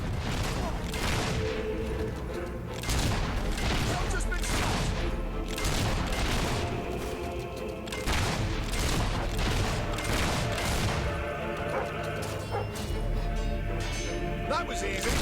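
Gunfire in the Fable III video game, rapid bursts of shots and fusillades with crashes and booms throughout, loud and dense, with a voice talking over parts of it.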